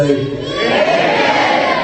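A church congregation calls back aloud to the preacher in one short, dense burst of many voices, loud and close and lasting under two seconds.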